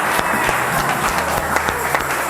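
A church congregation applauding for the Lord, steady dense clapping from a crowd filling the room, loud and continuous with faint voices mixed in.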